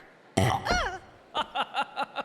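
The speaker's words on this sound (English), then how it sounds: "It's even better to drink with a slurp if you follow it up with a sizable burp." Cartoon burp from an animated series: one loud, gurgling belch followed by a string of five short, rhythmic hiccup-like burps, close and alone.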